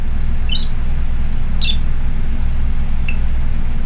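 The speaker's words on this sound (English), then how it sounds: "A lot of tweeting here." Chirpy bird-tweet effects from an old Windows computer sound scheme sound as several brief high twitters scattered over a loud low hum.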